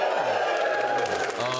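A studio audience at a comedy panel show cheers and whoops in a steady crowd roar, with a voice talking over it throughout.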